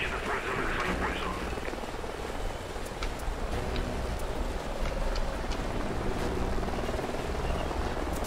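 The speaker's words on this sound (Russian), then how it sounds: "Вертолеты." Helicopter rotor noise from a Call of Duty Ghosts match, a steady broad whooshing drone filling the whole stretch at constant loudness, with faint scattered clicks on top and no talk.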